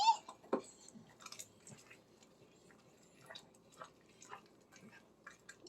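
Soft, irregular crunching and chewing close by as a dog eats a homemade treat, a few sharper cracks among quieter munching, with no talking.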